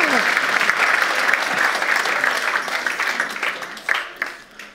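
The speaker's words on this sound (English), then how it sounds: "Give them another round of applause." A church congregation applauds in a dense, sustained round of clapping that fills the room, tapering and thinning out toward the end.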